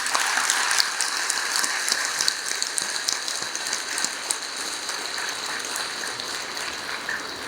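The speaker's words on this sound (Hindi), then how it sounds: "इतने लोग ताली बजा रहे हैं" Crowd applause at a Hindu religious discourse, a dense steady patter of many hands clapping together throughout, fairly loud and continuous without breaks.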